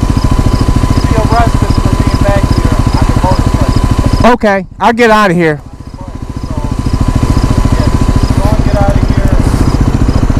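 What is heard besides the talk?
dirt bike engine running in woods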